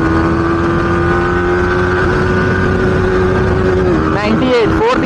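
A Yamaha R15M motorcycle accelerates through its gears on an empty road, a steady loud engine drone with rising pitch, then a shift and renewed climb near the end, with wind noise and someone talking over it.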